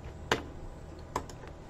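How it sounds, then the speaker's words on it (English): Two sharp, isolated keystrokes on a computer keyboard, entering copy and paste shortcuts while working in MuseScore notation software, quiet and close with a brief gap between them. "And I'm going to do my keyboard shortcuts."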